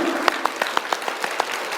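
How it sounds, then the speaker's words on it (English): A workshop audience claps in steady unison, a regular series of sharp, fairly quiet claps at a quick even pace, heard alone without talk. "Just clap. Continue. Louder."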